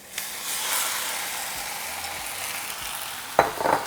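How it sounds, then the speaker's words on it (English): Roasted, peeled poblano chile strips sautéing in a pan, a continuous soft sizzle with a louder scrape and stir near the end. "We're going to be sauteing for 3 minutes"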